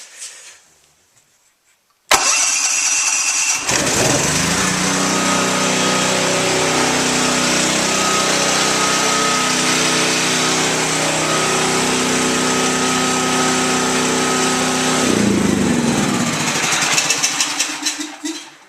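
A small tri-fuel converted engine running on propane fires up after a brief quiet moment, then holds a loud, steady, high-pitched running drone for over ten seconds before starting to falter and fade out as the fuel is cut.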